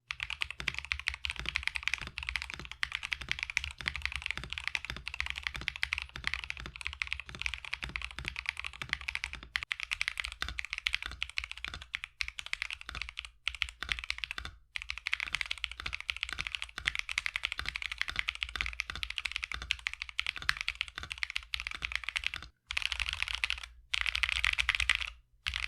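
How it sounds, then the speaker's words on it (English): Typing on a low-end budget mechanical keyboard fitted with tape and PE foam mods: a steady, close run of muted clacky keystrokes with occasional spacebar thocks, continuing alone without any voices. "I decided to tape mod and PE foam mod this keyboard, and I'll be showing you a before and after sound test"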